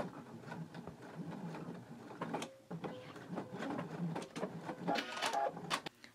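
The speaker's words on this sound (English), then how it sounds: "I'm going to stitch it down and I'm going to stitch it again to reinforce it" A sewing machine runs steadily, stitching down a fabric loop for a ring and going back over it to reinforce it, with a continuous close mechanical whirr and a brief pause partway through.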